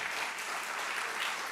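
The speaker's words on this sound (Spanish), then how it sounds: "Hay un aplauso a Mendoza presente." Audience applause at a gathering, a steady dense wash of clapping from a crowd that holds evenly throughout without any voices.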